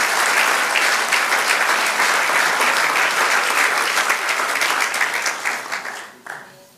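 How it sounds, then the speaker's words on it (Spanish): A church congregation applauds during a sermon, sustained dense clapping from many hands filling the room for several seconds before tapering off and fading out. "Dar un aplauso al Señor."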